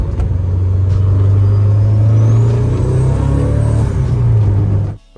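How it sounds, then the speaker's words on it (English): A turbocharged 1994 Mazda Miata engine pulls loudly and steadily with a deep droning note for about five seconds, then cuts off abruptly. "But Mxrti's car is a 1994 Miata with a turbo kit by the Defensive Octopus. Sounds absolutely awesome, spools up quick"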